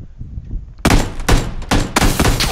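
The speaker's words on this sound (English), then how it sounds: "Oh shit, they're trying to shoot at me." Gunfire from PlayerUnknown's Battlegrounds, a faint murmur of background noise giving way to four loud, close bursts of rapid shots in quick succession.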